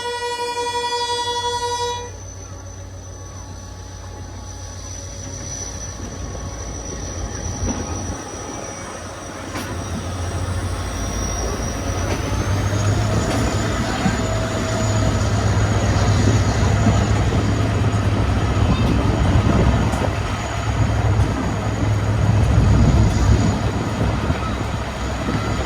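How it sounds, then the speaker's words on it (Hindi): Two Mirpurkhas–Karachi express trains at a station, with a brief tonal beep at the start, then a rising rail rumble with intermittent metallic wheel squeals and rolling noise building gradually. "ये दोनों मीरपुर खास जाने और आने वाली ट्रेनें इस वक्त एक साथ मौजूद हैं"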